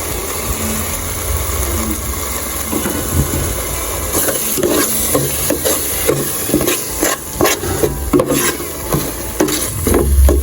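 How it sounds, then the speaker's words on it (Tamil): Ginger garlic paste sautéing in a pot for Sri Lankan chicken biryani gives a close, low sizzle, then bursts of scraping and knocking as a spoon stirs it more briskly in the second half. "இப்போ இஞ்சி பூண்டு பேஸ்ட்டு வந்து போட்டு நல்லா வதக்கணும்"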